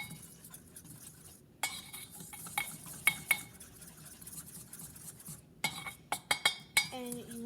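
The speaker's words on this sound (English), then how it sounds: "with a fork, you're just going to whisk it until it's well combined and is a thick glaze" A fork clinks and scrapes against a bowl while whisking milk into powdered sugar to make a thick glaze for cinnamon rolls, giving a run of sharp metallic taps that grows busier and louder toward the end.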